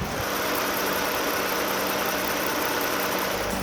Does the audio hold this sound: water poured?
no